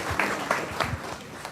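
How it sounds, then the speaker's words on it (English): Brief scattered applause from a small group during a judge's investiture ceremony in a courtroom, a few seconds of light clapping. "That deserves a clap."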